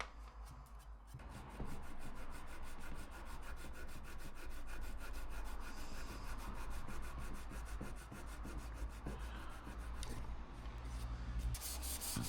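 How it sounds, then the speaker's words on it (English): Sandpaper of 240 grit rubbing over wood for a final finishing pass, a steady close abrasive scratching in continuous back-and-forth strokes that runs the whole length, with no talking. "And sanding to finish. I'm using a 240 grit as my finish sandpaper."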